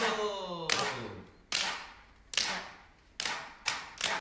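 Several sharp claps ring out from a played performance, five or six separated strikes at uneven intervals, each with a quick decay, following a short stretch of musical tones.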